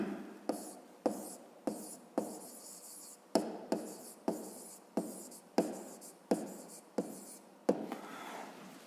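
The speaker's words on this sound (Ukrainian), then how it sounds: "записуємо розв'язання" A math solution is written out by hand on paper, with about a dozen crisp, close scratching strokes in an uneven rhythm and short quiet gaps between them.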